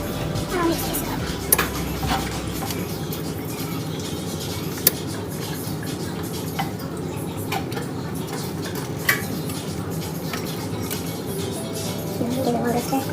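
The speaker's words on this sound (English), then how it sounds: "give it one good stir" Spoon stirring a juice drink mixture in a cup, faint clinking and scraping under a steady background hum, with a few sharper taps against the cup.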